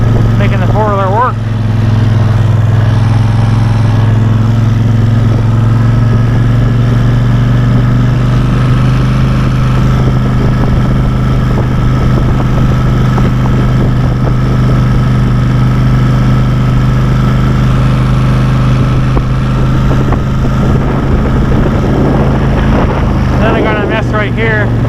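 A four-wheeler ATV engine runs steadily at low revs in deep snow, a loud continuous drone that holds for the whole stretch while a person talks over it.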